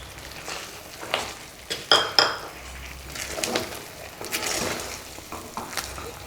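Ghee-fried cashews being stirred into rava halwa in a pan, with repeated scraping and clinking of a spoon against the metal and a faint sizzle underneath, close and irregular.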